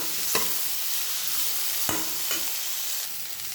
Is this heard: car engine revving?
no